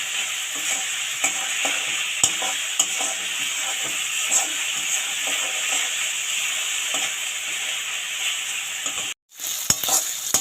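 Onions sizzling and frying in a pan after a pinch of salt goes in, a steady close crackle with stirring scrapes throughout, broken by a brief gap near the end.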